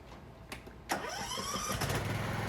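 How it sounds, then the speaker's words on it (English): A Craftsman T1500 riding mower engine cranks with a short whirring starter burst, then catches and settles into a steady mid-pitched running drone close by. "Start it up."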